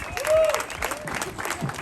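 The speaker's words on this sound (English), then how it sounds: "we have a round of applause for Scott Jett" A crowd applauds for Scott Jett at the Hereford Inlet Lighthouse 150th birthday celebration in North Wildwood, NJ, a brief burst of dense clapping outdoors that stays steady throughout.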